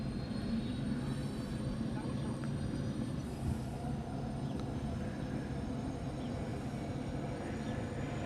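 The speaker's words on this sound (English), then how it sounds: "If you're wondering what's making all the noise to my right, it's that Trident helicopter." A Trident helicopter flies near Honolulu airport, producing a steady loud rumbling drone with constant engine roar that fills the whole span.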